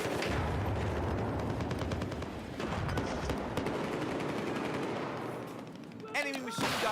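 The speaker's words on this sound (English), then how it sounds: "Enemy machine gun." Enemy machine gun fire in a first-person shooter rattles in rapid continuous bursts amid dense battle noise, easing briefly near the end before more shots ring out.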